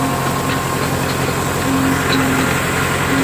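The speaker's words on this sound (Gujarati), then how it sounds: "હા ભાઈ ટ્રેક્ટર લઈને આવ્યા." A tractor idles close by on a farm where groundnut is being harvested, a loud, steady low engine rumble with a faint mechanical whine running throughout and no talk over it.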